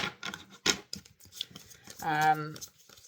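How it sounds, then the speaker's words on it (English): Tarot and oracle cards pulled from a deck, giving several short, close papery snaps and rubs in an irregular rhythm, with a brief sustained vocal sound partway through. "I'm going to pull a few cards on the spouse"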